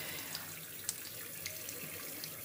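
Cold water runs from a tap into a sink in a steady, close stream, with a few small splashes and drips and no voices.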